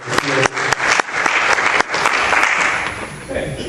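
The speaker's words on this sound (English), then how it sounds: "we want to give a round of applause to our great senator" Enthusiastic clapping from a forum audience applauding a senator, dense and steady, with a few sharp individual claps standing out before it begins to thin at the end.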